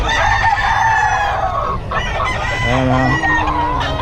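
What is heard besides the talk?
chickens clucking and rooster crowing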